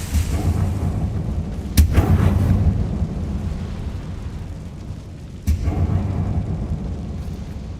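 Confringo fire spells in Hogwarts Legacy blast off as sharp, loud explosions, one near two seconds in with a rumbling tail and another sharp crack later, over continuous low game rumble.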